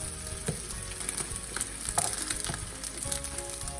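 An omelet cooks in a pan with a steady, moderate sizzle and crackle, marked by occasional soft scraping or stirring taps, close by with no talking.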